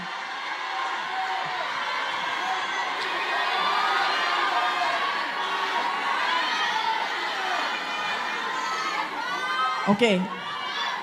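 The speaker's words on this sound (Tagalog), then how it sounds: "Tatagal tayo sa sigawan ninyo" A large crowd at a political rally shouts and cheers steadily, a dense roar of many voices that swells and holds, with a sharp whoop near the end and a speaker's voice partly buried in the noise.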